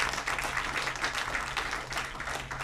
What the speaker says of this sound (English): Y'all could clap it up one time.